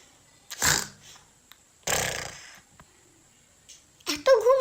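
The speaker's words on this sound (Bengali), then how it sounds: "ওঠার সাথে সাথে নাক ডাকার আওয়াজ" A man snores on a train: two loud, rasping snore bursts a second apart, with quiet stretches between them, then a short voiced sound at the end.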